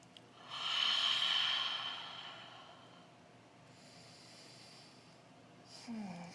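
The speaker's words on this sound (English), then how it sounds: "Take a couple of cleansing exhales." Slow, audible breaths pushed out through the nose and mouth in a wide-legged yoga forward fold, a long hissing exhale swelling and fading, followed later by a softer second breath, close and quiet with no talking.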